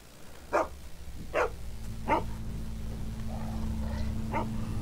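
A dog barks in short single yips, four spaced bursts over a low steady hum in The Walking Dead video game, fairly close and clear with no talk.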